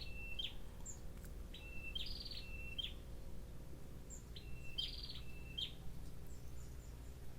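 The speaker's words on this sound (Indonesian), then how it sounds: "Kita nikmati dulu suara burung." Several birds chirp and sing in short, bright, repeated calls against a quiet backdrop, with the calls coming in clusters over a steady low hum.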